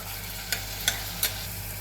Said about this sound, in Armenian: Անմիջապես տեղավորում եմ այստեղ կտրատած հավի կրսկամիսը եւ կարագով տապակում ենք մի թեթև